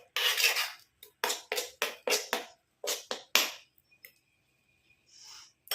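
A spoon clinks and scrapes against a bowl in a quick run of rhythmic strokes while a homemade hair dye is mixed, then stops, leaving only faint sounds.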